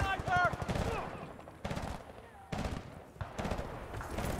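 Gunfire in the Battlefield Bad Company 2 campaign, bursts of rapid automatic shots in short volleys separated by brief pauses, with voices talking in between and over them.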